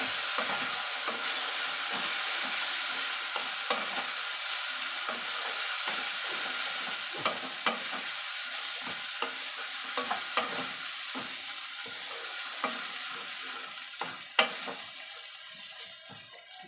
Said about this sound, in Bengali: দিয়ে এবার মশলাগুলো কষাবো।